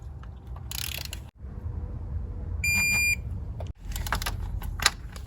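Torque wrench clicking and ratcheting while tightening intake manifold bolts on a 2003 Toyota Highlander V6, close mechanical clicks and a steady ringing tone in a quiet garage, with brief louder bursts of metal rattling.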